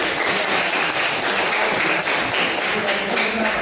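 A classroom of students applauds a classmate for answering a question, a continuous, even patter of many small hands clapping at steady loudness throughout.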